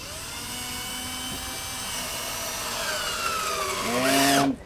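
A power drill drives wood screws into a wooden target, a whining motor that rises in pitch and strains before cutting off abruptly at the end.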